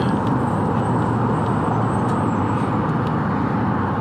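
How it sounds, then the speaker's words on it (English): Steady, loud roar of highway traffic heard from a Honda CT125 motorcycle, with 18-wheeler trucks rumbling close by and constant engine and wind noise, no voices. "The CT125 rubbing elbows with the 18-wheelers."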